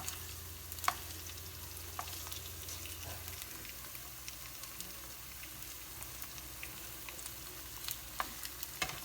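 Thin honey nut cornflake-coated chicken strips fry in a pan over low to medium heat, giving a quiet, steady sizzle with occasional small pops and crackles.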